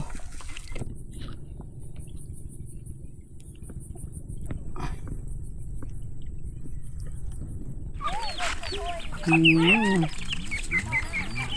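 Chickens and ducks on a rural Thai farm, with steady clucking and rooster-like calls over continuous outdoor ambience, plus a brief louder burst of clucks near the end.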